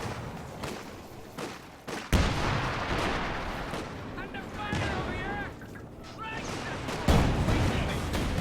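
Machine gun and artillery fire in the Company of Heroes 2 strategy game, with a Vickers machine gun in a 2v2 match: steady rattling bursts and heavy booms under continuous commentary, with loud impacts near the start and toward the end.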